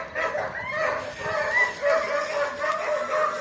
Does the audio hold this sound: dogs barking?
yes